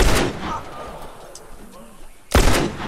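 Two bursts of video-game gunfire, one at the start and a louder one near the end, separated by quieter ambience with faint speech in between.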